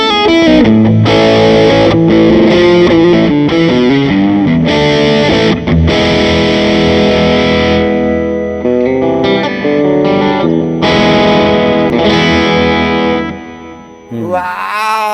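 A Gibson SG with P90 pickups plays crunchy, overdriven phrases through a serial effects board, with chorus and reverb shimmer, loud and close, fading out at the end.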